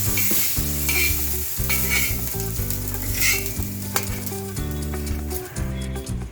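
Spice masala dry-roasting in a pan for a spicy misal, with a steady sizzle and the scrape of stirring throughout, close up and moderately loud.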